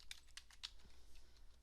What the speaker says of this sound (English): then we'll go ahead and start typing